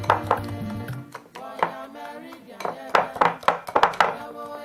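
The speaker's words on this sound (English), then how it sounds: "You use your whisk to mix it in well till all the lump is gone." A whisk beats a butter and sugar mixture for coated peanuts in a bowl, giving quick, rhythmic clinks and taps against the side that grow busier toward the end, heard close up.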